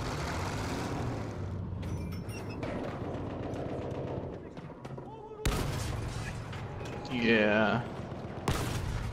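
Gunfire in the Battlefield 1 video game rattles in bursts through a dense, noisy battle mix, with a short voice heard over it and vehicle-like rumble underneath.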